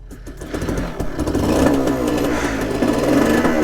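A 1995 Suzuki K125 two-stroke dirt bike engine warms up close by, revving in a steady, raspy drone that rises and then holds high and loud with a rattly edge.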